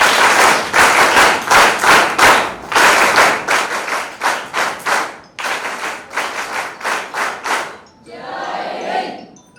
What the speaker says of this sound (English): NSS clap goes on.